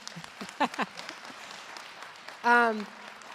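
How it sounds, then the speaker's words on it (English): A crowd at a Detroit small-business event applauds Mayor Duggan, light scattered clapping under a speaking voice, with a short loud tonal burst near the end. "Can we give him another round of applause?"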